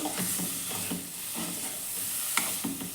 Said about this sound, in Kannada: ಪನ್ನೀರನ್ನೆಲ್ಲ ಚೆನ್ನಾಗಿ ಈ ಥರ ಮಿಕ್ಸ್ ಮಾಡ್ತೀನಿ ಒಂದು ಟೂ ಮಿನಿಟ್ಸು ಮಸಾಲೆ ಒಟ್ಟಿಗೆ ಇದು ಈ ಥರ ಫ್ರೈ ಆಗಲಿ